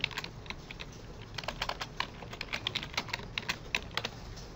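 Rapid typing on a computer keyboard, a dense run of sharp key clicks in irregular bursts, fairly close and clear, with no talking.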